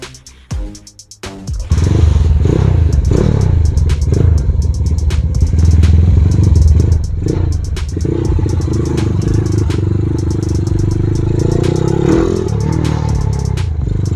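A Honda CB motorcycle on a test ride pulls away in first gear, its engine loud and close with rising revs, preceded by brief clicks and clatter.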